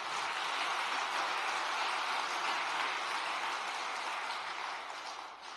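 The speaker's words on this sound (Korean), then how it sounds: "우리 퓨어워터 신탑권들을 위해서 응원과 격려의 박수를 부탁드리겠습니다." Congregation applauding the Pure Water members at a church service, a dense, sustained wash of many hands clapping that fades slightly toward the end.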